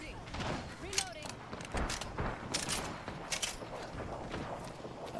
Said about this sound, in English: Shooting. Reloading.